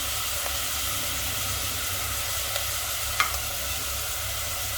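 Onions and green chillies frying on a high flame while being stirred, a steady loud sizzle and hiss with a few faint scrapes of the spoon, no voices.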